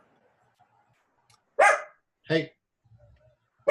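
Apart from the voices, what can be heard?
dog barking in a bedroom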